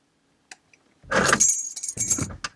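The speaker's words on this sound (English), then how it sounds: "Let me look for my car keys." Car keys jangle close by in a quick metallic burst, then a second rattling flurry after a brief pause, with light handling taps just before.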